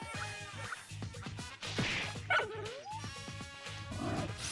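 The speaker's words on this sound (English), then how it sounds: "It's so weird to hear like Koromaru's like just dog sounds in combat like that." Persona Q2 combat with a dog party member letting out yips, barks and short whimpers among game sound effects and battle music, with several bursts spread across the moment.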